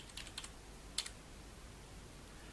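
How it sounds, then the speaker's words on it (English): Arrow keys on a computer keyboard are tapped a few times, quick faint clicks in two small clusters within a quiet room. "I'm using the arrow keys on the keyboard for this."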